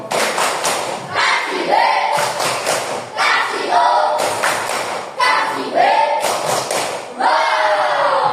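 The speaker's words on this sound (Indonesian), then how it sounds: "Seperti biasa, beri tepuk apresiasi." A sixth-grade class gives a patterned appreciation clap after a group presentation, rhythmic bursts of claps and thumps repeating in a cycle, each ending with a short chanted vocal flourish from the students.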